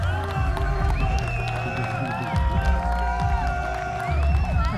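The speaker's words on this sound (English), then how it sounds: "All right, one more round of applause." Audience applause and cheering at the Accelerate USA 2026 conference, a dense, steady crowd roar with clapping that holds for the whole stretch over faint background tones.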